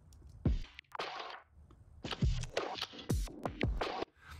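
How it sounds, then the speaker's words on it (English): Drum and percussive hits processed through a noise gate with Ableton OTT compression, sharp transients and short noisy bursts chopped into near-silence between them, played at a low level. "You can hear it's just cutting out some of the noise in between."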